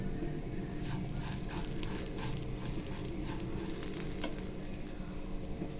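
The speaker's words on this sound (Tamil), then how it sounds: "ரவை போட்டு கொஞ்சம் வறுத்ததும் கருவேப்பிலை பச்சை மிளகாய் போட்டுக்கலாம்" Curry leaves and green chillies crackle in oil with roasting wheat rava, a dense, even frying hiss with faint soft pops throughout, heard up close with nobody speaking.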